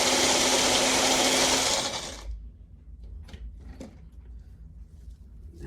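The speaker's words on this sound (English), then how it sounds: "Trying to really just crush up every bean." Coffee beans being crushed into a rough chop: a loud, close motorised whirring runs for about two seconds, then stops, leaving a few light knocks and rattles.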